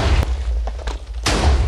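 In the Minecraft game, a 3x10 rapid-fire cannon booms, with loud blasts at the start and end and a few quicker pops and explosions in between.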